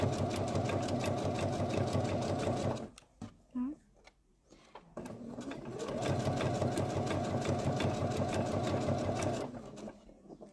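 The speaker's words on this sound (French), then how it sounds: "je suis en train de coudre le biais dessus" A sewing machine runs in steady fast bursts, stitching bias binding onto a thick fabric cape, with a brief pause and some handling noise in the middle before the motor picks up again.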